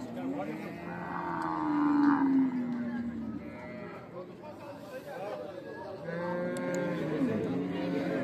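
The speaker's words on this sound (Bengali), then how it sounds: "শাহিওয়াল ষাঁড় বাছুর।" Cattle at a livestock market moo in long, low calls, including a Sahiwal bull calf, loud and close, with people chattering around them.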